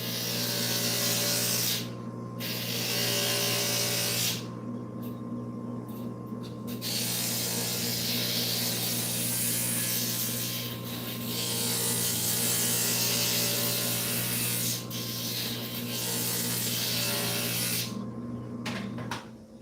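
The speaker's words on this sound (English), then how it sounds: "I'd like to have a little bit wider gap next to the grout, so I'm going to grind that down just a little bit more." Stained glass pieces being ground down on a glass grinder, a steady motor whir with a wet abrasive hiss that runs almost continuously, broken by a few brief pauses as the piece is lifted away, close and moderately loud.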